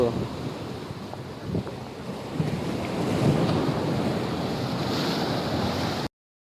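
Surf breaks continuously on Murudeswar beach, Karnataka, a dense roar of waves and wind that builds gradually and stays loud until it cuts off abruptly.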